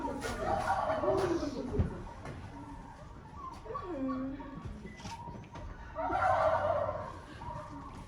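A pair of turkeys gobble in warbling bursts at moderate distance at a village market fair, with people talking over them at times.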